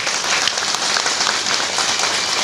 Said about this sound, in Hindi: एक बार जोरदार तालियां जरूर होनी चाहिए